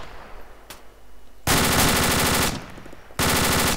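Soldiers' automatic weapons rattle in a military combat game: quiet ambience first, then two long loud bursts of machine-gun fire separated by a short pause.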